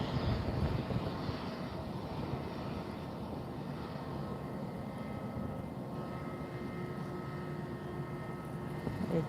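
A twin-engine Airbus A320 airliner at Lisbon Airport rolls for takeoff, its jet engines giving a steady, broad roar with a low rumble, heard from a distance and held at even loudness throughout.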